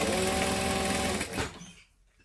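A sewing machine runs steadily, chain-stitching fabric pieces for a Trailblazer bag, a dense continuous whir that cuts off after about a second and a half and leaves near silence.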